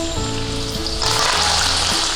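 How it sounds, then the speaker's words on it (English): Curry leaves crackle and sizzle in hot oil alongside frying fish fingers, a close, steady spitting hiss that turns louder and denser halfway through, with a soft tonal hum beneath. "now let the curry leaves fry for a minute"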